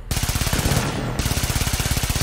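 Rapid automatic gunfire in the Warframe video game, shooting at balls from a rising platform, comes as a fast, even burst of shots, briefly pausing before resuming at the same rhythm.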